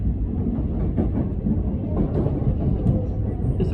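A suburban train runs into Dandenong station with a steady low rumble and rolling rail noise from on board, close and continuous over the short stretch.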